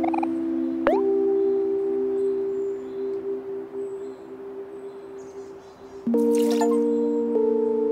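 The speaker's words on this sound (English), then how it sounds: "I need to water the plants" Watering a plant in Omori gives a pair of bright chiming tones, one early and one later, each followed by a steady sustained ringing note, clear and close with no voices.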